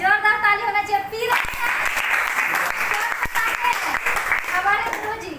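Crowd claps loudly at a Hindi-language sales talk, sustained applause beginning after a short stretch of speech and running to the end, with voices over it.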